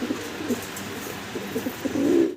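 Pigeons, including black Pomeranian pouters, coo in a loft in repeated low throaty pulses, nearby and clear, swelling into a longer rolling coo at the end.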